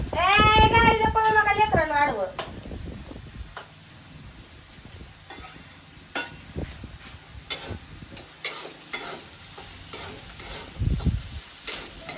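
Pumpkin stirred in a pot on a wood-fired clay stove in a home kitchen, with scattered scrapes and clicks of a spoon against the pot over a low crackle, after a child's sing-song voice at the start.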